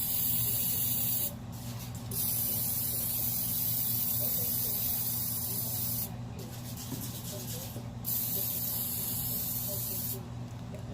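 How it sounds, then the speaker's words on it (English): Cooking spray hisses from a can into a bowl in a few bright, sharp bursts of varying length, close by, over a steady background hum. "You're gonna spray the bowl as good as possible."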